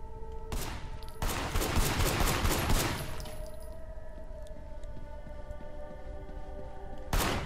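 Rapid gunfire bursts at a firing range in the video game Sleeping Dogs: a short volley, then a long dense stretch of shots, a sustained ringing tail, and one more burst at the end.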